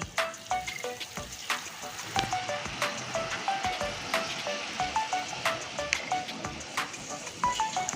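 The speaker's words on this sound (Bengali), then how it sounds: "এই গরম জলটা দিয়ে দেবো এখানে এই গরম জলটা ঢেলে দিচ্ছি" Hot water poured into a simmering chicken and potato curry sets off a steady hiss of sizzling and bubbling with small clinks and splashes, close and continuous throughout.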